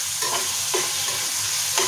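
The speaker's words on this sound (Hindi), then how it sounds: "टमाटर भी थोड़े फ्राई हो जाएंगे इसमें" Chopped tomatoes sizzle steadily in a hot pan while being stirred for a paneer and red chilli recipe, producing a dense, continuous frying hiss with a few soft scraping touches.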